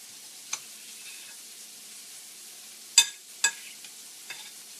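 Meatballs sizzle in a frying pan with a soft, steady hiss, broken by a few sharp pops and spatters, close and without talk.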